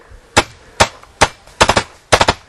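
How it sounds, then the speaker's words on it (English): A 2009 Proto SLG paintball marker fires in wooded terrain, a few sharp pops spaced out, then quick double and triple bursts, loud and close with no talking. "the gun is shooting great. As you can see, I mean, the gun's very quiet"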